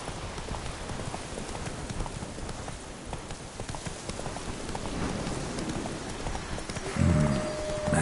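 Hooves clip-clop steadily in a quick trotting rhythm with rain pattering all around in the Witcher 3 video game, and a brief tonal swell near the end.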